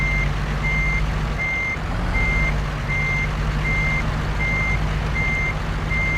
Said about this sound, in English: these trailers do not back very well, so I have to go very slow